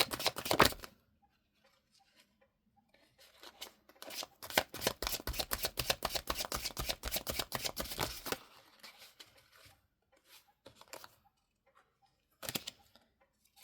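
Tarot cards are shuffled and handled from a deck split in half, giving a long run of rapid riffling clicks at close range, with softer single card snaps and shuffles before and after.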